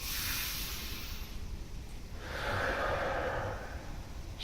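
Deep breaths during a Wim Hof breathing exercise, a long airy inhale followed by a pause and another strong rushing breath, close and unaccompanied by speech.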